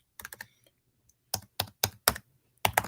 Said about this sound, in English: You can hear the keys clicking because you know I'm actually doing the work here